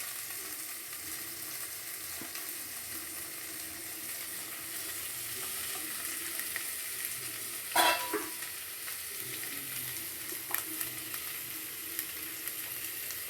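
Onions frying in a pan for potato curry, a steady close sizzle and hiss with a single sharp stirring clatter partway through and a softer knock later.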